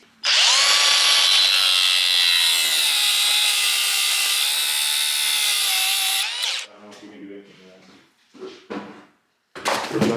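Grinder cutting through a plastic and metal car shifter part, a loud, sustained high whine for about six seconds, then it stops, and people talk briefly afterward.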